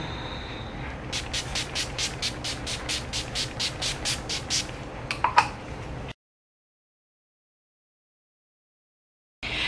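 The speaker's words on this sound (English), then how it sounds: "I'm gonna finish it off with some Urban Decay Makeup and Chill Setting Spray." A rapid series of about fourteen short pumped bursts of Urban Decay Makeup and Chill setting spray, misted evenly near the face after eye makeup, followed by a few clicks and then silence.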